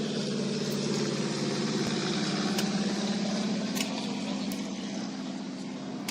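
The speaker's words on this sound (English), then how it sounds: "after the plane goes by." An old, roughly 65-year-old propeller plane engine drones overhead near a youth spring football game, a steady, loud low rumble held for the whole stretch and easing off slightly toward the end.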